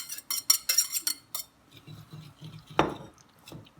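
A utensil stirs banana bread batter in a bowl, scraping and clinking against the sides in quick rhythmic strokes, then slower wet folding with one sharper knock near the end.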